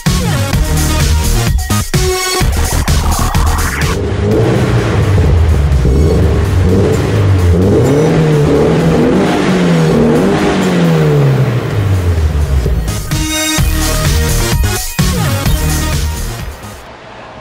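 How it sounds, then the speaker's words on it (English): A Toyota FR-S sports car with a factory TRD exhaust revs hard, climbing and dropping through loud, close engine sweeps with crackling pops as the throttle snaps on and off. "that's the TRD exhaust"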